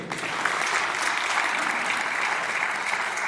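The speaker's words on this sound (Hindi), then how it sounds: "जोरदार तालियां अविनाश सर के लिए।" Sustained audience applause at a DXN business meeting in Bihar, dense and steady for the whole stretch with no talking over it.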